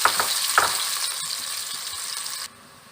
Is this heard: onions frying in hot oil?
yes